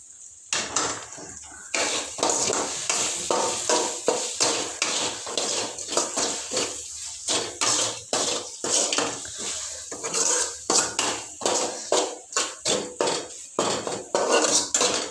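Cauliflower curry with turmeric and salt being stirred in a pan: a metal spoon scrapes and clanks against the pan in quick repeated strokes, close and steady, with no talk.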